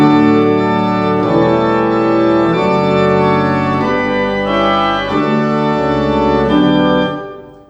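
Pipe organ playing a bright, light chorus on an 8-foot gamba, 4-foot principal and mixture with the swell coupled: sustained chords that move in steps, loud and steady throughout, then fading at the end.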